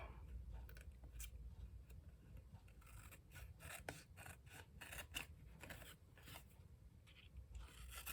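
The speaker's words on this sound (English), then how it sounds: "I'm going to trim this one up." Card being trimmed for a fragmented card-making technique: a quiet run of repeated cutting and rasping strokes, close and steady, with no one talking.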